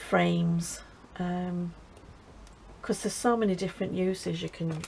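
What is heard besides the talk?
No distinct noise like a dog, phone or traffic.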